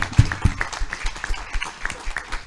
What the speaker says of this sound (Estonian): Aga siis mul on ettepanek teha suur aplaus meie panelistidele.